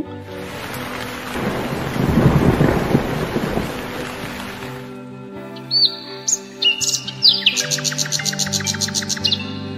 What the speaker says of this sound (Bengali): আজকে প্রচন্ড বৃষ্টি হয়েছে